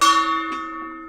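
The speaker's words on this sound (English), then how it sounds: "but I'll give him a gong." A gong struck once, loud and close, its bright metallic ring sustaining and slowly fading over about a second with no voices.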